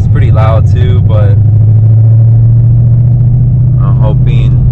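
Ford Mustang S550 engine while driving: a steady, deep droning rumble fills the cabin with no break, and a voice talks over it at the start and end.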